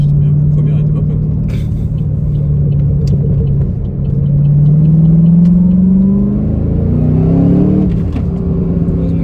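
A 6.2-litre V8 car engine rumbles deep and loud up close, then revs with a rising, swelling roar before easing back, while people talk over it.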